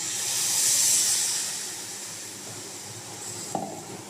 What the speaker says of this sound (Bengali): এখন আমি যে মিক্সিতে পোস্তটা পেস্ট করেছিলাম তার মধ্যে জল দিয়ে রেখেছি, আস্তে আস্তে দিয়ে দেবো